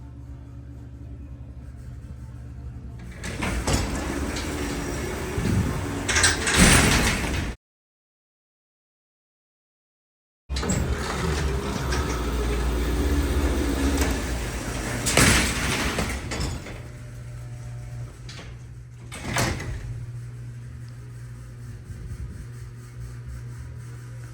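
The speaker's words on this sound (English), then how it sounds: "Thankfully, the doors are loud enough to drown the music out." Heavy Dover hydraulic freight elevator doors in a mall rumble and slide open and shut with loud clanking bursts, separated by a stretch of silence and later a sharp slam.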